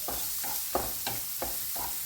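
Onion and garlic sautéing in a pan under a steady hiss of sizzling oil, while a spoon stirs in regular strokes about every third of a second, close and without voices.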